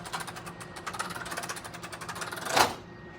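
A 2011 Puma 31KBHSS travel trailer's awning retracting, a rapid mechanical rattling and ticking that runs steadily for a few seconds, then ends in a short louder clack as the awning closes.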